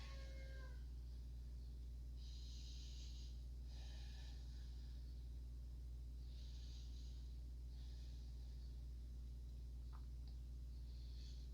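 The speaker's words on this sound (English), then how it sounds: "Deep breathing." Slow deep breathing during a yoga session, several soft, airy inhales and exhales at a steady pace over a low steady hum, quiet and without talk.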